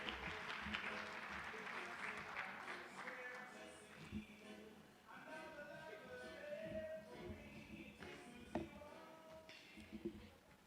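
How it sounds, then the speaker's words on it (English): Faint audience applause at an Indigenous Knowledge technology investment summit, a spread of hand claps with voices over it. "Let's give her a round of applause."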